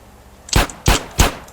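Three sharp shots from a small handgun in GTA San Andreas ring out at an even, quick pace, close and clear with nothing else around them.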